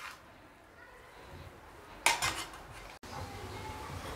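A spoon stirs carrots and beetroot frying in a pan over low to medium flame, giving a soft sizzle, one sharp metallic scrape and clatter midway, then steady frying again.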